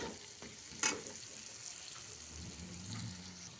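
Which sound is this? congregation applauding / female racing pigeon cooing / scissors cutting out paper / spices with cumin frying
spices with cumin frying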